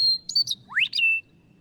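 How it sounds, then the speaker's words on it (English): A western meadowlark sings a short, loud, close phrase of rising and falling whistled notes on the Kansas prairie over a faint low background rumble. "So this is our western meadowlark song."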